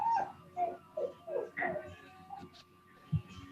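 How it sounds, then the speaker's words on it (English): A puppy whines in short, high-pitched bursts several times, faint and somewhat distant, with a low thump near the end. "Don't know if you can hear the whining puppy that I have in the background."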